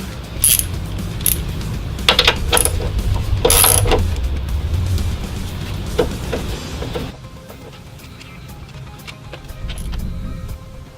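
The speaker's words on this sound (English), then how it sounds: "now I'm going to start working on taking these bolts out, undoing these nuts right here, and they're a 15 millimeter." Metal clicks and ratcheting rasps from a ratchet undoing 15 mm nuts on the strut tower of a 2016 Ford Mustang GT, close and fairly loud in scattered bursts, then a quieter stretch of faint workshop noise.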